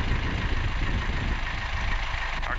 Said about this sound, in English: Rev it up a little bit, a neutral, the starboard engine.